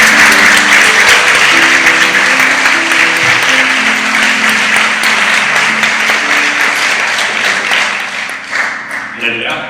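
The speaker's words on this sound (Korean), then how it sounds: "우리 나오실 때 큰 박수로 환영하도록 하겠습니다." A church congregation applauding to welcome a visiting evangelist from a Milan church, dense sustained clapping that fills the room, loud and steady before slowly thinning toward the end, with a voice and some tones beneath.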